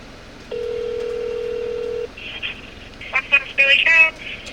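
A telephone call being placed: a steady ringback tone holds for about a second and a half, then a quick run of short electronic beeps follows, clear and close.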